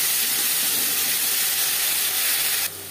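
Ginger and green chili paste hits hot oil already crackling with panch phoron, giving a steady, loud, close hiss that holds evenly for a few seconds before dropping off abruptly near the end.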